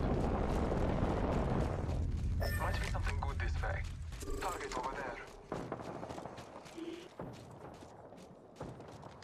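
A grenade blasts inside a building in Apex Legends, opening with a heavy, rumbling low boom and debris, then scattered thuds, clanks and gunfire pops as in-game voice callouts talk over the aftermath.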